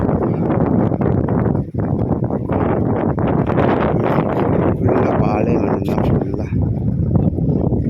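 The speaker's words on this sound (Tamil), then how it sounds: "காற்று சூப்பராக இருக்குது" Strong wind buffets the microphone along a roadside in Saudi Arabia, loud gusty rumble and rustling throughout, with someone talking over it.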